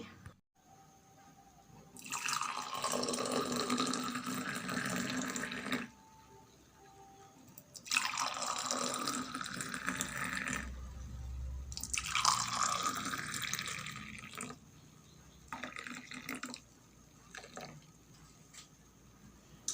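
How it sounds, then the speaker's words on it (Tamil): Freshly brewed coffee strained and poured at home, giving three separate bursts of splashing liquid, near and fairly loud, with quiet pauses between pours and no talking. "இப்போ இதை வந்து வடித்து ஊற்றினா எங்களோட காஃபி ரெடி"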